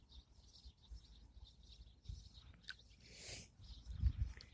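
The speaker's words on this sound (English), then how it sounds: "The birds settling down for the night is very similar to when they're waking up in the mornings." Evening birdsong as birds settle for the night: repeated soft chirps and tweets at moderate distance, with a few brief louder calls and low rustling underneath, no talk.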